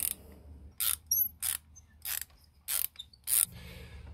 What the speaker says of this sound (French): on prend notre clé à bougie. On insère délicatement.